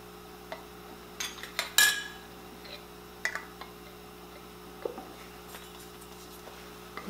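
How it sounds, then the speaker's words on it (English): Lids go onto glass canning jars with a few light metallic clicks and clinks spaced irregularly, one sharper clatter near the start, close and quiet over a low hum, with no talk. "Now we're going to put on our lids."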